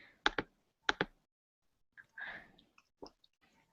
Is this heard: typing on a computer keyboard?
yes